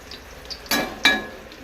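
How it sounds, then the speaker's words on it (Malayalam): Cashew nuts roasting in a pan, heard as two brief, close scraping and sizzling stirs about a third of a second apart over a faint background hiss. "എനിക്ക് അണ്ടിപ്പരിപ്പ് ഇങ്ങനെ വറുത്ത് കഴിക്കാൻ നല്ല ഇഷ്ടം"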